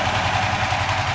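A motorcycle engine fitted with a Cheetah Power TCI driver idles steadily, its low, even pulsing chug running close and loud with no other sounds.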